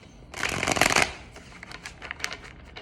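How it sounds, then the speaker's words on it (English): A deck of tarot cards riffle-shuffled close by, one loud burst of fluttering card flaps followed by a few lighter taps and clicks as the cards settle. "One more shuffle for the Tarot here"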